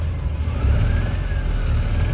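A carbureted engine gets heavy throttle, its low rumble swelling into a steady rev, loud and close, with no voices.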